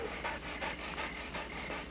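A pet dog panting steadily in rhythmic bursts of breath, close by and fairly quiet, with no talk over it.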